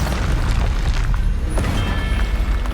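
Confringo and Bombarda spells explode in the Hogwarts Legacy video game as a loud, continuous rumbling boom with crackling debris, dense and heavy throughout.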